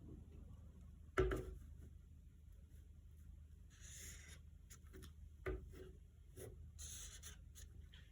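A pen or pencil draws a line on pattern paper while a bustier gown pattern is drafted; faint, intermittent scratchy strokes come with a couple of soft knocks in a quiet room.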